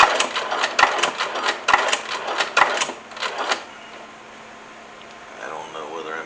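A sewing machine stitching thick fabric for a stick horse, heard in quick bursts of close, rattling mechanical stitching for about three seconds before stopping, leaving a quiet hum.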